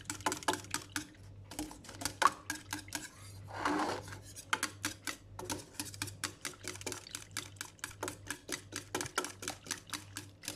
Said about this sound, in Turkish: Böyle çalkalaya çalkalaya çırpıyorum arkadaşlar.